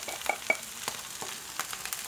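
Soaked Chinese vermicelli is stirred into a seafood and vegetable filling frying in a pan, giving a soft, steady sizzle broken by a few light stirring clicks and scrapes, close by and fairly quiet, with no talking.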